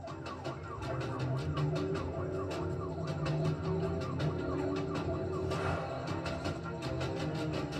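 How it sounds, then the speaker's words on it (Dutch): A police car siren wails continuously over steady traffic noise, rising and falling in pitch, fairly close and loud with no talking. "nu maakt hij alleen nog lawaai als hij de sirene aanzet"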